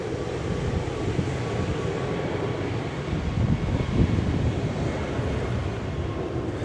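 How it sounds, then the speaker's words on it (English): Broadband jet roar of an airplane landing at a nearby airport near Montego Bay, a steady distant rumble that swells slightly midway, heard alone without talk. "That would be a plane landing."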